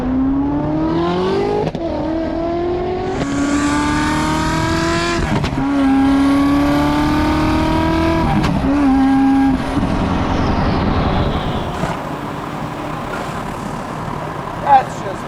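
A hypercar engine drones and rises through several revving pulls, broken by sharp cracks at the gear shifts, with people talking over the loud, close engine noise.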